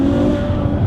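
A Ferrari F12 Berlinetta drives past close by, its engine a loud, continuous tonal roar for just under a second.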